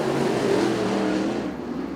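IMCA Modified race cars roll off for the first heat race of the night at Arizona Speedway, a dense, steady engine roar of the pack holding loud and constant, easing slightly toward the end.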